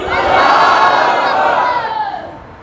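A gathered crowd shouts a religious slogan together in reply to a leader's call, a loud unified roar of many voices that swells and then fades toward the end.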